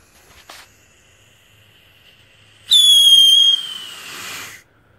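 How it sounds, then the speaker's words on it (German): Screaming Arrows fireworks fired outdoors in snow let out a loud, piercing whistle that slides slightly downward, sustained for about two seconds before trailing off, preceded by a brief faint pop. "Der Pfeifton ist echt exorbitant geil."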